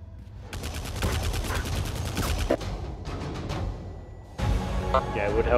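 Rapid bursts of sci-fi laser fire from a tower-storming video game, sharp repeated zaps in clusters with brief gaps, loud and close, while voices talk over the action.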